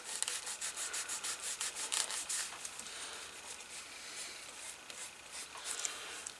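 Quiet rhythmic rubbing as deglazer and a tan finish coat are worked off leather with a cloth, repeated soft scuffing strokes, quicker at the start, then steadier, close and faint.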